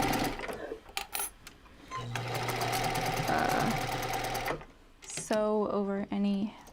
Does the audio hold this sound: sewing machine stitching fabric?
yes